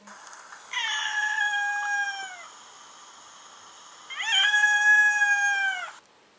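Two drawn-out cat meows from a cat-luring app game, each clear and fairly close with a rising then falling tone, separated by a short pause and heard alone without speech.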